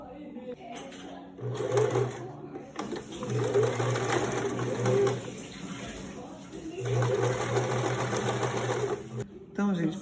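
Sewing machine stitching a cotton fabric piece for a homemade face mask, running in two sustained bursts of steady whirring with a short pause between them, close and fairly loud, with someone talking over it in Portuguese.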